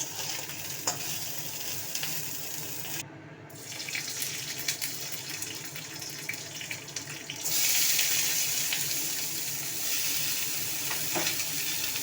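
Fish sizzles in hot oil in a pan, a dense continuous frying hiss that briefly cuts out, then returns louder and crackling, with no talking.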